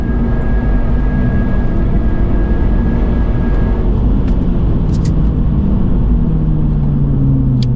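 Lynk & Co 03+ engine held at full throttle on a racetrack, a loud, steady drone from inside the car with a rising pitch and brief tyre or wind flutters toward the end.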